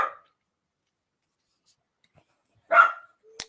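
A dog gives a short bark, then after a pause another louder bark, close by in an otherwise quiet room.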